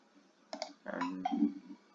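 Brief bursts of clicking keys on a computer keyboard as a search term is typed, a short close flurry of taps with no talk.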